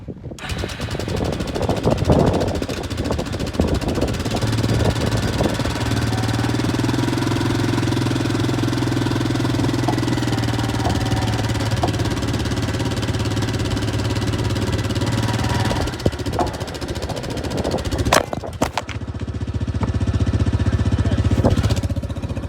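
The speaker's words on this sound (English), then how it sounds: "record and see how well the 4-wheeler pulls the trailer." A small ATV engine drones steadily nearby as it pulls a trailer under load, with rattling and clanks toward the end and wind buffeting the recording.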